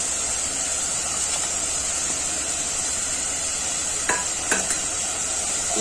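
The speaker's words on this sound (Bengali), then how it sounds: "ভালো করে মশলাটা কষাবো যাতে কাঁচা গন্ধটা না থাকে মশলা।" Spice masala for chilli paneer being stirred and fried in a pan, a steady sizzle and hiss running throughout with a few louder scrapes of the spoon near the end, no voices.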